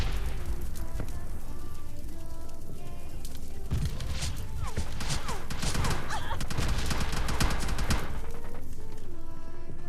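Bursts of gunfire from the PUBG Lite video game crackle in rapid fusillades, dense volleys clustering mid-clip, over a low game background.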